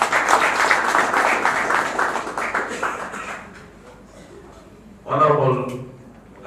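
Audience applause at a political alliance gathering fills the first few seconds as dense, steady clapping that fades out, followed by a brief burst of a voice near the end.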